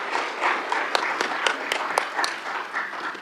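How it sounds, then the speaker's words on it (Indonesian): Applause for the minister at an Indonesian parliamentary hearing, a room of people clapping with distinct sharp claps standing out over a loose patter, moderately loud and sustained, with faint voices underneath. "Boleh kita beri tepuk tangan kepada Pak Menteri"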